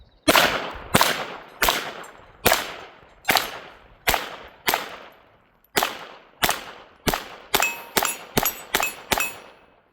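Rapid .22 pistol shots from a Taurus TX22 at an outdoor range, each sharp crack followed by a ringing clang off small steel targets, about fifteen shots, evenly spaced at first, then quickening into a fast string near the end.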